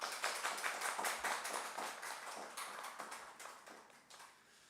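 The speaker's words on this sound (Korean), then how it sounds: "우리 박수로 환영하도록 하겠습니다." A church congregation at a Sunday worship service applauds to welcome a pastor to the pulpit, with fairly quiet, dense clapping that tapers off.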